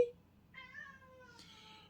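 A kitten meows once in a drawn-out, slightly falling cry, close and clear, after a brief sharp knock at the start.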